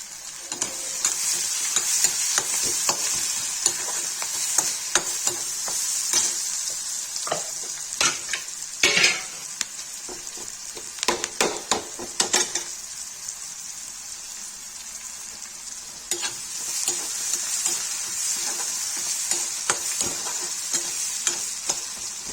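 Onions fry in a pan for a Kashmiri-style aubergine and tomato dish, a continuous bright sizzle broken by irregular scraping and clattering strokes of a spoon stirring them, close and with no talking.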